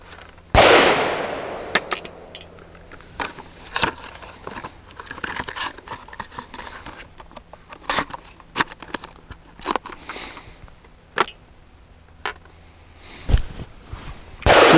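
A Walther PDP Match Steel Frame pistol fires into the dirt outdoors as sharp, loud cracks spaced irregularly over several seconds, with fainter rustling and handling noise in between.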